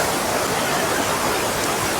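The Rani Duduma waterfall in Odisha roars with a steady, dense rush of falling water, loud and close, filling the air with broad, unbroken hiss.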